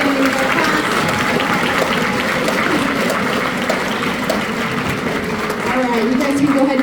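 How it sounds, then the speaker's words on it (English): An audience at an 8th grade orchestra concert applauds with dense, steady clapping that fills the whole stretch without letting up. "please give me a round of applause for these guys being the outstanding of our class"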